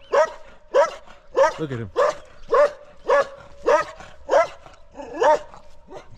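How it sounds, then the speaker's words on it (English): An angry dog in Azad Kashmir, Pakistan barks loudly and repeatedly at a steady pace, close by, with a person briefly speaking between barks. "Look at this dog. He's pissed."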